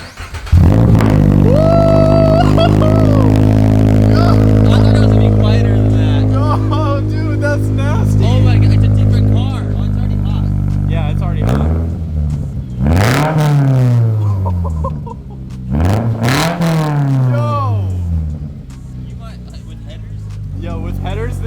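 A Subaru BRZ fitted with a new aftermarket exhaust fires up and settles into a loud, steady idle, then is blipped through several sharp revs that rise and fall, with excited voices talking over it.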